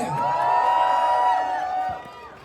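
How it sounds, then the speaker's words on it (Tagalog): Live audience at a Filipino film promotion event cheering and shrieking loudly, sustained high-pitched whoops and yells over crowd noise, fading toward the end. "Palakpakan namin may kasamang hiyawan!"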